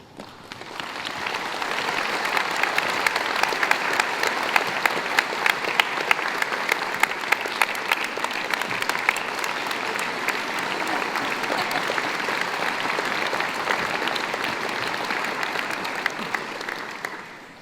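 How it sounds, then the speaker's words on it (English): Graduates at a university graduation ceremony in Wellington break into sustained applause, a dense, even wash of many hands clapping that swells quickly and holds strong for over fifteen seconds before tapering off. "I will ask graduates to stand, applaud those on the stage behind me, and then turn and applaud all your family and friends who are with us today."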